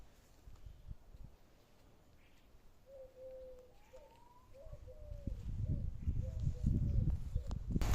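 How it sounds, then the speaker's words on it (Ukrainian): Soft Eurasian collared dove coos repeat in short phrases at moderate distance, over low rumbling background noise that grows louder toward the end. "Ми їх називаємо дикі голуби, а по книжці їх називають вроді би садова горлиця"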